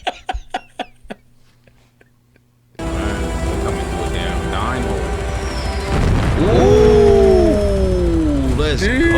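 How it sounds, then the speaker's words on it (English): A big explosion in the 2021 film Dune, with a deep, loud rumbling blast that rises out of near silence and swells over several seconds, layered with sweeping tones from the soundtrack. "Damn, that was a big explosion."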